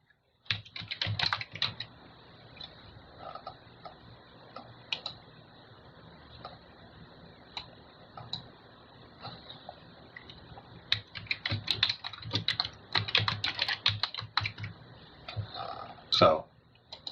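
Clacking keystrokes on a computer keyboard in bursts, some sparse single taps and some quick runs, close and fairly crisp, with a brief louder clatter near the end.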